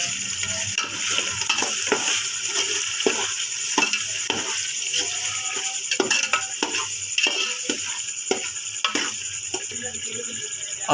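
Pulao rice with salt, biryani masala and turmeric powder, an aloo matar pulao, being stirred in a pot. A steady sizzle sits under repeated spoon scrapes and knocks throughout.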